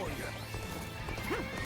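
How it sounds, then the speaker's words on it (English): A horse neighs and hooves pound over a dense, noisy background in Dynasty Warriors: Origins, with a voice talking through it. "You can see him running with his fucking horse."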